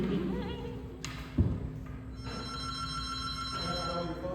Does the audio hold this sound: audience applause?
no